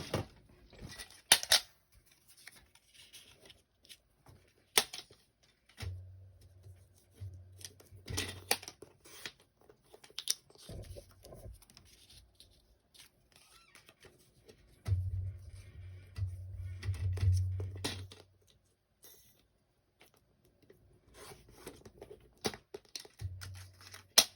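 Scissors snip through card stock for a handmade snowman stepper card, with scattered crisp cuts, longer runs of rapid snipping and paper rustling, close and quiet with no talk.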